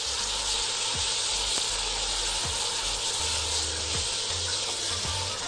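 Yogurt and spice sauce for biryani being stirred in a pan, a steady sizzling hiss with soft scraping strokes recurring about once a second, close and even, with no voices.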